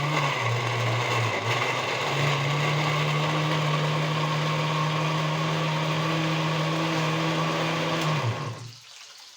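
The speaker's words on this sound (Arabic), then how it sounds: "ثواني بس اضرب الطماطم في الخلاط" Electric kitchen blender blending tomatoes, a loud steady whirring motor hum that runs continuously for several seconds before cutting off abruptly near the end.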